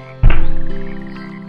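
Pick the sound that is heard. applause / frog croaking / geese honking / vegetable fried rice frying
frog croaking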